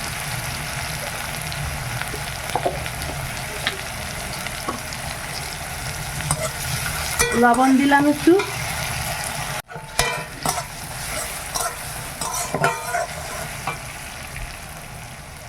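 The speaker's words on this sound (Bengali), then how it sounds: "পেঁয়াজটা টমেটোটা ভালো করে ভাজা হয়ে গেছে," Chopped onion and tomato frying in a pan with a little salt, a continuous close sizzle with spatula scrapes and stirring, a brief spoken remark partway through.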